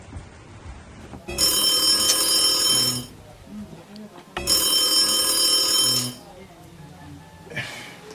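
An old-style telephone bell rings twice in long metallic bursts, each lasting about two seconds, with quiet pauses between.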